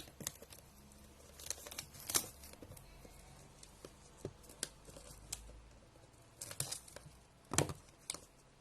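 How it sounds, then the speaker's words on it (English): Packaging of a TP-Link RE305 Wi-Fi range extender being opened, with close, quiet crinkling, tearing and scattered sharp rustles and taps, heard alone. "now let's just unbox it"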